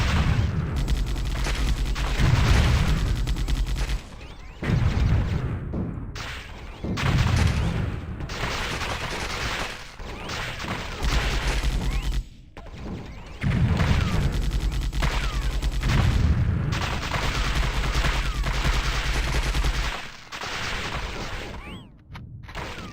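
A tank in WH40K Fire Warrior fires rapidly in long, loud bursts of dense booming gunfire, broken by brief pauses.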